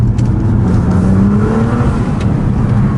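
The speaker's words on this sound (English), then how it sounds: "We're in the GTR now, and yeah, you guys wanted some fast driving" A Nissan R35 GT-R Recaro Edition drives with its engine droning loudly and close from inside the cabin, the pitch climbing slightly as it revs and a faint whir running underneath.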